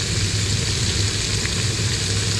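Cut okra and green chilies frying in hot oil for Telangana-style pulusu, a loud, dense and unbroken close-up sizzle with no talking.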